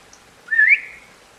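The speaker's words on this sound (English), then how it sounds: "Let's try if it works with the whistle as well." A person gives a single short whistle that rises in pitch, clear and fairly close over a faint background hum.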